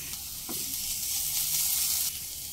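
Onions fry lightly in a pan with a steady, hissing sizzle that swells briefly mid-way, close and continuous, alongside a brief soft stirring knock.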